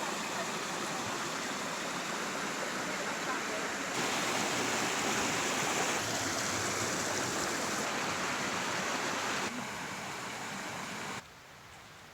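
High-Low Brook flowing in a Peak District valley gives a steady, full rush of water that stays constant for the whole stretch, then drops a little toward the end. There is no clear talk over it.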